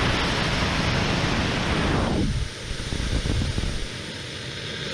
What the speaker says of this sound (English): Here's a video of the last hybrid rocket engine that I built.